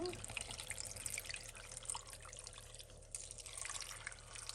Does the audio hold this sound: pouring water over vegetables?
yes